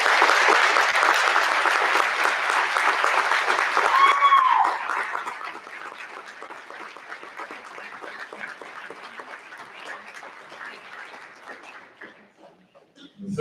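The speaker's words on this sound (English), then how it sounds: "Can we please give them a round of applause?" A school Veterans' Day audience applauds two veterans, steady dense clapping for about four seconds that thins into lighter scattered clapping before trailing off.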